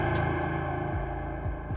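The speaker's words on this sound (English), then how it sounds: "We're gonna start sound boom cloud." The Scratch 3.0 boom cloud sound effect plays as a dense, distorted, rumbling wash with repeated low swooping drops and echoing texture, loud and continuous, with no talking.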